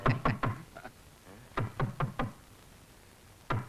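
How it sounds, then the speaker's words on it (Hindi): Several sharp raps on a wooden door at night, fired off in quick bursts of three or four knocks separated by short pauses, close and loud with no voices. "जाओ दरवाजा खटखटा दो।"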